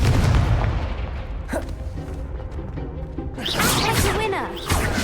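Fiery Confringo blasting spell from Hogwarts Legacy combat, a burst of whooshes and booming impacts among other spell effects, with a louder crackling blast near the end and game voices in the mix.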